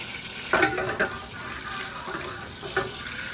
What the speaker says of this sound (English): So we want to get that butter melted first.